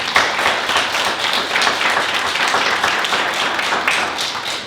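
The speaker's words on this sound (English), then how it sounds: "let's give them a big round of applause" Audience applause at a Warren County, North Carolina small business awards ceremony, honoring the grant sponsors: dense, steady clapping from a crowd, sustained and fairly loud throughout with no talk over it.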